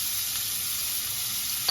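Shallots sizzle in a hot pan over medium heat for a mushroom red wine sauce, a soft, steady frying hiss throughout.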